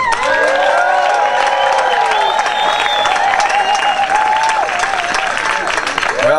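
At a Nimbin MardiGrass parade float awards event, a crowd applauds and cheers loudly and continuously, with whoops and shouts rising over sustained clapping throughout.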